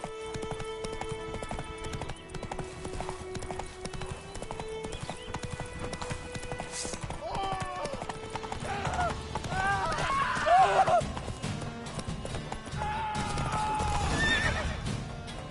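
Horse in The Witcher 3 game, with steady clip-clop hoofbeats that speed into a gallop and a loud neigh in the middle, over game music with a voice talking at times.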